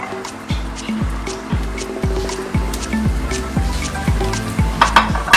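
Vegetables tossed into a hot pan sizzle and hiss steadily, with a low recurring stirring scrape every second or so; the frying is close and fairly loud throughout.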